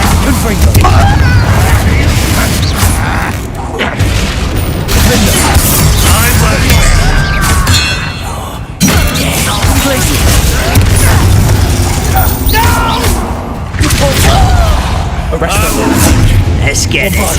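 Repeated Confringo fire-spell blasts in Hogwarts Legacy, loud booming explosions with crashing impacts and mechanical clatter in a dense, continuous game-combat mix, with speech mixed in.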